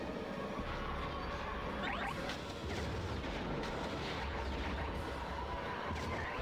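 Enemy blaster fire in Star Wars: Rogue Squadron zips past in a few short laser bursts over a constant dense roar of engines and battle noise.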